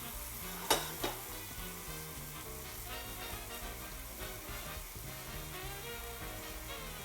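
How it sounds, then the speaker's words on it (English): Samosas frying in canola oil, a steady close sizzle running throughout with a couple of sharp clinks near the start over low background music. "Now we're going to fry the samosas in a little bit of oil here"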